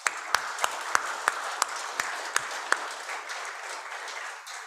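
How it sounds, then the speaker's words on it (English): At a corporate go-live ceremony, a round of applause from a modest audience rings out with a few sharp, loud claps close by standing out over the softer patter, which gradually fades. "give yourself a very good round of applause for what you have done"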